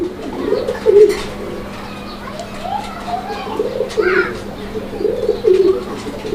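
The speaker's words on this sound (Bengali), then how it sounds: "আপনারা কবুতরের জোড়াটা দেখেন" Pigeons coo in low, throaty bursts, near and fairly loud, a pair held for breeding at a pigeon market. A voice also talks steadily underneath the cooing.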